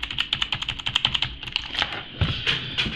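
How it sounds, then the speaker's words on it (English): Rapid typing on an aJazz WolfTeam K701 mechanical gaming keyboard, a steady run of sharp, close clicky keystrokes, fairly loud and alone with no talking. "mechanical keyboard"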